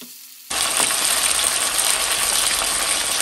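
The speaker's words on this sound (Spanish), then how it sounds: "En una cacerola vamos a agregar un chorrito de aceite y vamos a empezar a agregar bisté de res." Beef steak sizzles in a splash of oil in a pot, a loud, steady broadband hiss that bursts in suddenly after half a second of near quiet and holds without a break.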